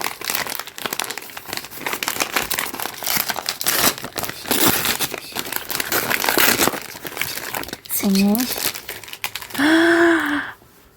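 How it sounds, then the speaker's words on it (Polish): Hands open a small wrapped gift parcel, producing close, continuous crinkling and rustling of paper or plastic packaging, with brief vocal sounds near the end. "I teraz otwieramy paczuszkę numer 10."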